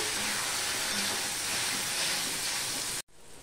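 Tempering spices sizzle in a pan while being stirred for vegetarian bhog khichuri. A loud, steady, close hiss runs unbroken for about three seconds, then cuts off abruptly and resumes as a quieter sizzle, with no talking.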